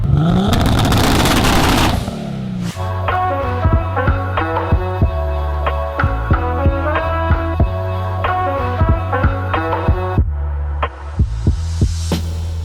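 A race car that once beat 600 to 700 horsepower cars in competition drives fast, its loud engine holding a steady droning note with sharp pops and clicks throughout, preceded by a burst of roaring noise.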